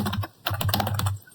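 Router commands are typed on a computer keyboard in quick clusters of close, crisp key clicks with a short pause partway through.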